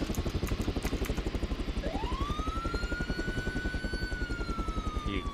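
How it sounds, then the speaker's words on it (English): An ambulance helicopter flies in the Arma 3 video game, its rotor chopping in a fast, steady pulse close by, while a siren wail rises and holds over the top. "Alright, JJ, I guess we're gonna have to fly with our ambulance."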